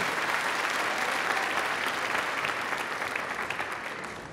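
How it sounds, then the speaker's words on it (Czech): A large audience at the Miss Czech Republic 2022 final applauds an orchestra, a continuous wash of clapping that holds steady and tapers slightly toward the end, with no talking over it. "takže velký potlesk pro ně, prosím."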